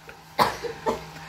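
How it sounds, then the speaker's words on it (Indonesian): A person coughs twice in quick succession, close and fairly loud, in a quiet indoor setting. "Ayo lagi batuk"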